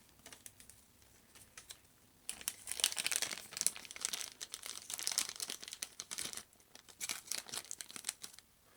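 Electrical tape being handled during a Datatag install on a Honda GB350S motorcycle in a garage, close crinkling, tearing and tapping noises, quiet at first, then busier bursts of fiddly handling.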